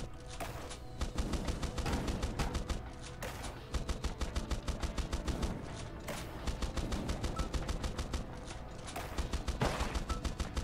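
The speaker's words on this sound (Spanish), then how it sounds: "Esa explosión ahí." Rapid automatic gunfire and bursts fill the Swarm Grinder video game action, dense rattling volleys running almost continuously with brief dips, loud and without talk; any explosion is buried in the shooting.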